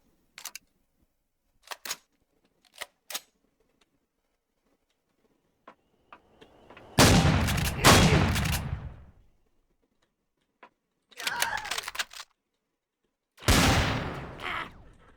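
Shotgun blasts in the Empyrion video game, fired at bugs: a few sharp clicks, then three loud bursts of firing separated by short pauses, with no talk.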